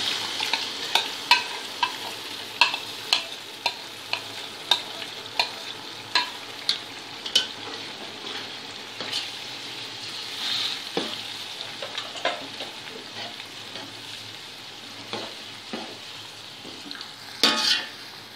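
Yogurt joins two large chopped tomatoes frying in a pot for aloo dum biryani, a soft steady sizzle under repeated rhythmic clinks and scrapes of a metal spoon against the pot.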